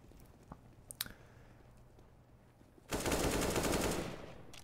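Automatic gunfire in the game CS:GO, a few faint clicks and taps leading into a loud sustained burst lasting over a second that then tapers off, with no voices.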